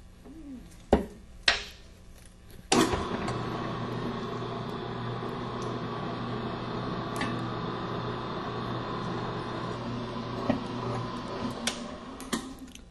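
An electric mixer beats bread dough made with eggs, dough improver, salt, margarine and water on first speed: a steady, close motor hum runs for about ten seconds after a few clanks at the start. No one speaks.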